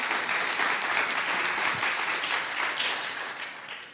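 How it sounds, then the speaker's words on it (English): Sustained applause from a debate audience honoring two speakers at a church-themed debate on homosexuality, dense and steady clapping throughout, slightly fading toward the end, with no talk over it. "Let's give them the round of applause"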